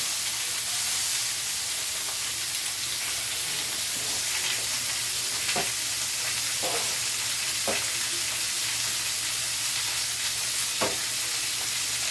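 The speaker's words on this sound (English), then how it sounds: "I'm giving the kraut a little stir" Sauerkraut sizzling in a pan beside pork, a constant loud frying hiss with a few sharp clicks and scrapes as it is stirred.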